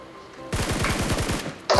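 Rapid automatic gunfire in the PUBG Mobile video game on the Miramar map, a single loud, close burst of about a dozen shots in fast rhythm lasting just over a second.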